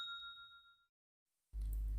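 A bright notification bell rings alone, a single clear ding with a sustained ringing tone that fades out, followed by silence and then a sudden loud low rumble.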